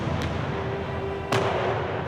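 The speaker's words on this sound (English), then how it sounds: "With so much noise from the cannon fire, it was difficult to make yourself heard" Cannon fire from artillery at a medieval Spanish castle gives two sharp booms about a second apart, the second louder and fuller, over a steady low background.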